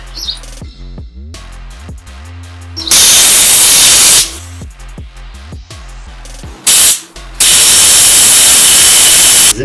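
Air hisses loudly out of an off-road tyre valve through a screw-on deflation tool, coming in several strong bursts of broadband rushing noise separated by short pauses and faint clicking, close up with no talking.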